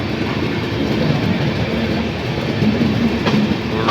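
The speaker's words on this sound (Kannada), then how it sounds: "ಇದು ನೋಡಿ ಟ್ರೈನ್ದು ವೀಡಿಯೋ." A train running at night near Dudhsagar junction amid tunnels, fog and rain, heard from on board as a loud, steady rumbling roar with rhythmic clickety-clack from the wheels, continuous throughout, with no talking.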